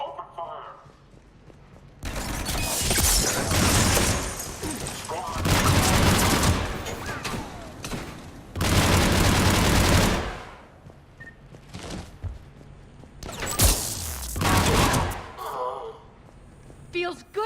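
Bursts of sci-fi gunfire in the Mass Effect Omega game, with heavy volleys lasting a few seconds each, separated by quieter gaps with game voices and ambience.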